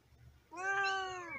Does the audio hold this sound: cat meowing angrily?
yes